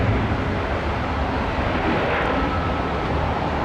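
A jet airliner at Tampa airport, heard as a steady, loud, continuous engine roar with no breaks and no voices.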